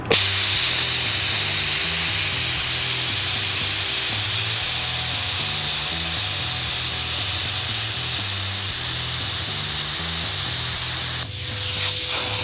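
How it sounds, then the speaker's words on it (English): Hypertherm Powermax 45 XP plasma cutter slicing through 14 gauge thin sheet metal with a 3/16 bracket attached, giving a loud continuous hiss and roar with a pulsing low hum, running steadily before cutting off near the end. "this is some 14 gauge thin sheet metal on here with a 3/16 bracket on it, and just slice this off here real fast"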